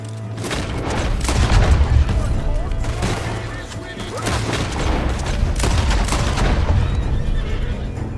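Gunfire in Red Dead Redemption 2 comes as repeated sharp shots and booms amid whinnying horses and hoofbeats, with voices talking over the chaotic, dense mix.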